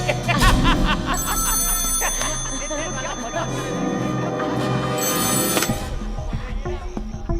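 A telephone rings repeatedly in a Mumbai underworld gangster film scene, set against a dense, loud soundtrack of music and background voices.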